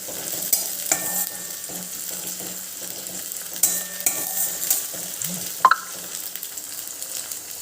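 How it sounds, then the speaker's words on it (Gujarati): Ginger, chili and garlic paste with finely chopped tomato stirred in a frying pan, a low sizzle under repeated scraping strokes of a spoon, with a couple of brighter metallic clinks near the end. "આ બંનેને એક વખત આપણે મિક્સ કરી લઈશું"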